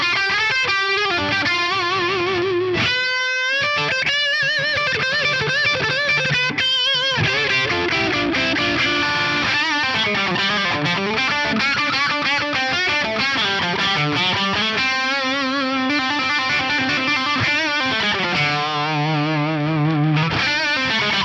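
Electric guitar runs through an FM9 amp modeler with its optical compressor cranked as a drive boost, playing loud, continuous distorted single-note lines and bends with sustained chorus-like effects shimmer and a brief pause near the start.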